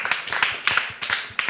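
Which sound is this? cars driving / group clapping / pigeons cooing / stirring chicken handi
group clapping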